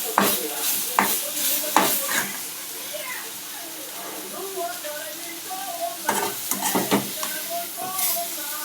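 Food for palak rice fries in a pan with a continuous sizzle and clattering stirs in bursts, while a person talks over the cooking.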